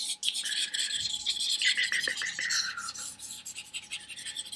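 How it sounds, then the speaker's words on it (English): Markers scratch and rub steadily across paper while a picture is being coloured, making a close, continuous rasping with short strokes in an uneven rhythm and no talking. "And I apologize if the markers are making a lot of noise."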